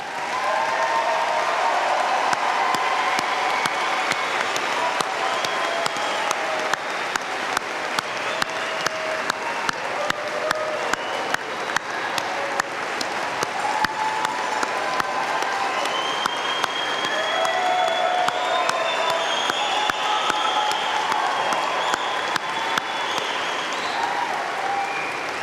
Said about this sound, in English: join me in one last round of applause for our graduates